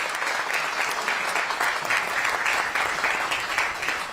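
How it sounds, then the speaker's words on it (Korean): Congratulatory applause from the audience at the opening ceremony of the Ministry of Oceans and Fisheries office in Busan, a steady, dense clapping that holds at even loudness throughout with no voices over it. "자, 다시 한번 이 두 분 그리고 모든 분들께 큰 축하의 박수 한번 보내주시면 감사하겠습니다"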